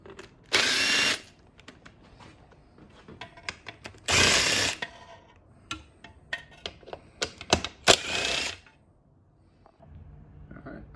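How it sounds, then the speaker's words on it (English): Bursts of mechanical workshop noise while radiators and aftermarket GPI hoses come off a 2000 Yamaha YZ250 dirt bike: three loud whirring stretches like a power driver, between them scattered clicks, knocks and rattles of tools and parts, close by. "I've taken one radiator off and I've taken one of the aftermarket hoses off"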